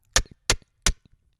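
Three sharp, evenly spaced clicky taps made with the mouth, imitating a drum rim tap, crisp and close with short gaps between.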